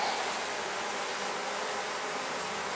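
Honeybees hum around an open, thriving beehive being inspected, a dense, steady buzzing swarm that holds evenly close by throughout, with no talking.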